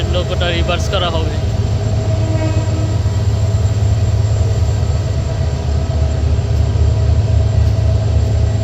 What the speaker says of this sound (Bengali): মেঘনা এক্সপ্রেস ঢুকতেছে